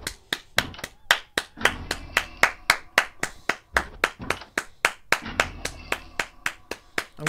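Steady hand clapping, close and loud, with about two to three sharp claps per second in an even rhythm over a short stretch, no voices.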